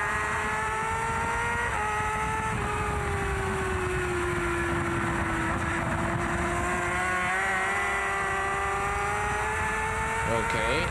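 A racing motorcycle accelerates through the gears in an onboard view from the Macau street race. The loud engine whine climbs and drops with each shift and dominates throughout.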